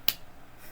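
A single crisp, close clap imitates a caddy's slow clapping on a golf course. The sharp snap is followed by quiet room tone.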